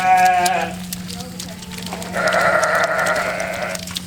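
Dorper sheep on a farm bleating two clear calls, a short one first and a longer wavering one after a pause, with a steady low hum underneath.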